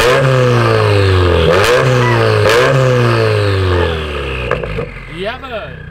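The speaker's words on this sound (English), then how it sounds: "Give us a couple revs, buddy." Close, loud revving from a turbocharged Honda S2000 with a downpipe and J pipe: two sharp throttle blips climb and fall over a throaty idle, then the engine drops back as voices come in briefly.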